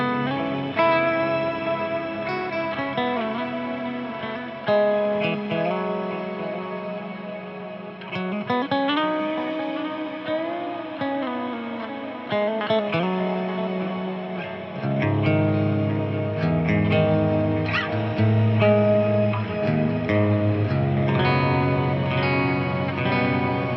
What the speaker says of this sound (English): Clean tone, it's pretty much the same thing but without the tube screamer.